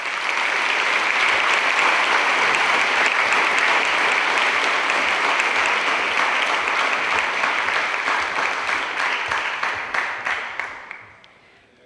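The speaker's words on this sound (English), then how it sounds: "Let's give the teachers and faculty a big round of applause." Sustained audience applause for teachers and faculty at the Green Mountain Technology and Career Center 2024 completion ceremony, a dense, steady wash of many clapping hands lasting about eleven seconds before quickly fading out.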